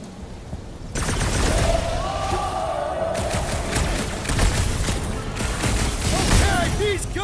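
Heavy gunfire from blasters in the Guardians of the Galaxy game, a dense continuous barrage that kicks in abruptly and rattles on loudly throughout, mixed with whirring effects and thuds, with voices talking over the action.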